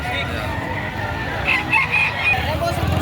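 At a livestock market, a rooster crows once, clear and fairly close. The call rises through the middle of the moment over a bed of low crowd murmur and market noise.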